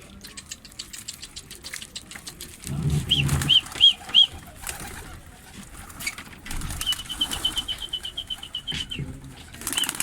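Tumbler and roller pigeons burst into flight with loud flurries of flapping wings, twice in quick succession, while soft cooing and bird calls sound nearby.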